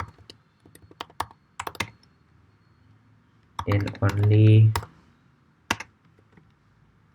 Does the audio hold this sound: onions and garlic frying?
no